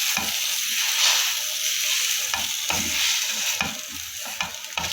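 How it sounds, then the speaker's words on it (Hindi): Boiled potatoes are mashed into a spice paste for a samosa filling, giving a run of soft, uneven squelching thumps and scrapes close by, without any talking. "अब अच्छे से मैश कर लेंगे इस तरीके से।"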